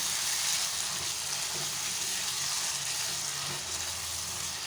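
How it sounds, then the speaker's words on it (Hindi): Medium-sized potato chunks frying with spices in a pan for chicken curry, a steady soft sizzle running throughout with faint stirring, no talk. "अब इसको भी मसाले के साथ अच्छे से पहले भूनेंगे।"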